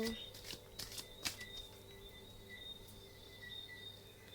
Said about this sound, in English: I still feel like shuffling